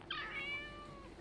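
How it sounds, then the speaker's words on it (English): A cat gives a single short, rising-and-falling meow over a video call, faint and slightly thin against a low background hiss. "It's actually my cats."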